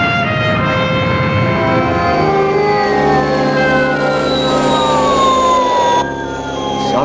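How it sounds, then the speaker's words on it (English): Spaceship sound effect from the puppet science-fiction series Fireball XL5, a loud continuous electronic tone with many layered harmonics and slowly gliding, siren-like pitches that fall and waver, steady throughout and dropping slightly in level near the end. "Sounds like a spaceship."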